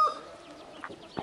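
A low-ranking black rooster gives a few short, soft clucks, spaced apart and fairly close, over a quiet background.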